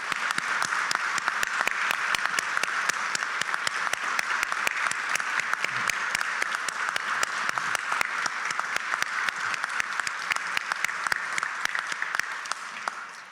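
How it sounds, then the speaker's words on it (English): Audience at the 2023 Ohio Senior Citizens Hall of Fame induction ceremony gives a sustained round of applause, many hands clapping steadily for over ten seconds before tapering off at the end. "please join me in another round of applause for the 2023 class of the Ohio Senior Citizens Hall of Fame"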